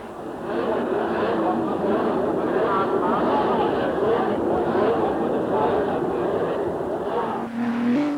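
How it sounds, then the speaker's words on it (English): 1940s Italian racing cars, Alfa Romeo, Maserati and Ferrari, roar around a European track in a sustained, dense engine drone with shifting pitch, loud and continuous throughout. "Italian racing cars, alive with nervous power, burst onto the tracks of Europe"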